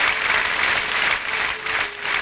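An audience applauds to welcome a singer on stage, dense steady clapping from a large crowd that swells and eases slightly over a couple of seconds, with no voices over it.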